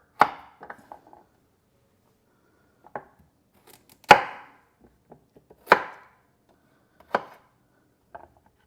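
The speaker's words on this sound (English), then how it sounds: "make sure you've got a good firm grip on the carrot and the knife and just quarter it like so" A knife cutting carrots lengthwise into quarters on a board, a handful of separate crisp chops and taps spaced a second or so apart, close, with near silence between them.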